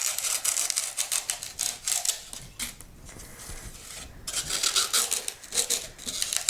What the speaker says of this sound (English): I'm just going to trim around it, and be careful with your knife as you go around this